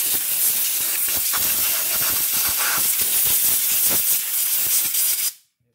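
Compressed air blasts onto the rear brakes of a 2018 Toyota RAV4, a loud, sustained hiss with fluttering bursts that lasts about five seconds and then cuts off abruptly.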